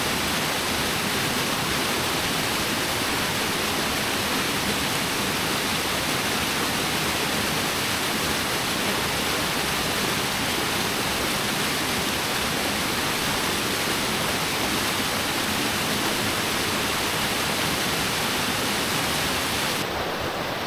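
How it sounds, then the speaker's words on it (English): Steady broadband rush of a waterfall on a mountain stream in the Arrochar Alps, Scotland, loud and continuous throughout with no voices. "there's a little deep bit just by the waterfall there"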